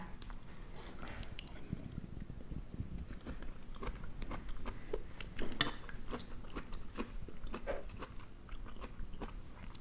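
Someone eating a lunch of pork soup with dandelion stems, cilantro and green onion, with close, quiet chewing, biting and crunching plus occasional light clinks of cutlery against a bowl.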